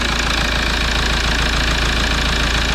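Toyota Prado 1KD-FTV diesel engine idles loud and close while warming up as antifreeze is bled after reassembly. It makes a steady, even clatter and hum throughout, with no talking.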